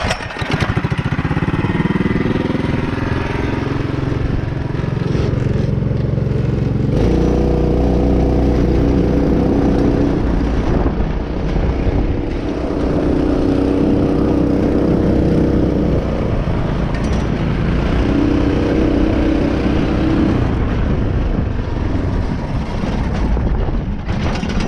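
A Predator 212 small engine runs under load on a test drive, a loud, steady mid-pitched chugging drone that rises and falls slightly as throttle changes, close up and with no talking.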